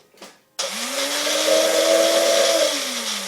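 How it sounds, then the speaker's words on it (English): A cheap Magic Bullet blender whirs loudly, blending juice ingredients: a brief bump, then a sudden motor start that holds a strong, steady whine close by until the end. "forgive the loud noise. My bullets are cheap when I got it at Fry's."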